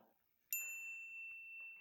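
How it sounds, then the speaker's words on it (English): A single bright notification bell ding strikes sharply and rings out as a clean sustained tone, alone against near silence. "don't forget to hit the notification bell"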